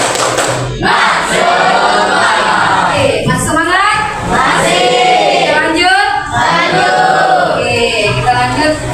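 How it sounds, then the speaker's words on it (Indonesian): A school class shouting together during a spirit clap in a lesson, loud rhythmic group yells and chants with thumping claps, repeated in bursts across the whole stretch, voices of children and a teacher mixed close by. "Oke, sekali lagi tepuk semangat."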